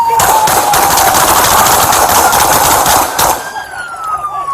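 A rapid, loud burst of gunfire erupts during a police arrest of a reckless driver who tried to run over officers. Dense overlapping shots crackle close by for about three seconds, with a wailing siren continuing as the firing stops.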